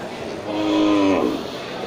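An Aceh cow moos once at a livestock market, a short mid-pitched low that rises and falls over about a second amid background crowd noise.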